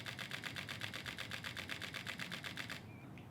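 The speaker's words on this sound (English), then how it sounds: "here is the shutter" A Fujifilm X-T4 fires a rapid burst, its quiet shutter ticking in an even, fast rhythm for almost three seconds before stopping, close and soft.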